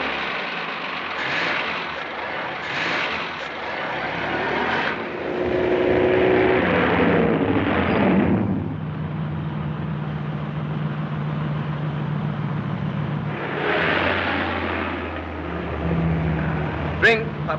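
A car engine in a 1936 film drones steadily, swelling and fading as the car drives off, heard up close with brief bursts of other sound over it.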